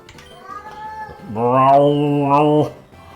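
A house cat gives a loud, drawn-out meow lasting over a second, clear and close, preceded by a few quieter chirpy vocal sounds.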